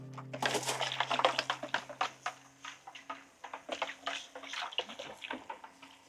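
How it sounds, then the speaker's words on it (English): A small automated handheld garden water sprayer misting seeds outdoors, its pump whirring and water hissing in short bursts with crackly spatter, close to the listener. "you just push the button and it sprays."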